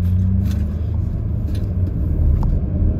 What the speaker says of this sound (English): Sorry, this traffic is ridiculous on Dead Limb Market.